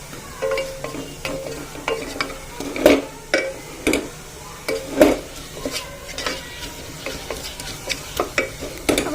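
Beef curry stirred in a pan as it fries, a spoon scraping and clinking against the metal in irregular strokes over a steady low sizzle, close and fairly loud, with no voices.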